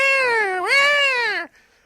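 A person imitates a cat with a single drawn-out meow, loud and close, rising slightly in the middle and then cutting off into near silence.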